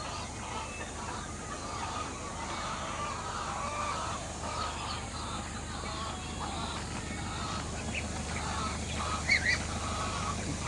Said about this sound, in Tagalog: Daming pabo oh.